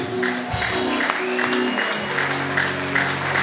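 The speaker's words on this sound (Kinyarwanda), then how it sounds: "Kubera Imana amashyi." Congregation clapping during a bishop installation ceremony at a church in Kigali, a short burst of steady applause mixed with music.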